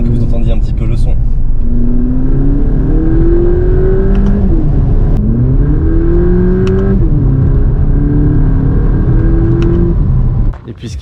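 A Volkswagen Polo GTI engine is driven and revved through several gears, its pitch climbing, dropping at each shift and climbing again, loud and close under continuous talk.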